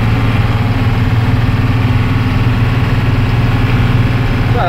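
A Blue Bird bus engine runs loud and steady in fourth gear, a constant low throbbing drone close by, holding at an even pitch throughout with no talking over it.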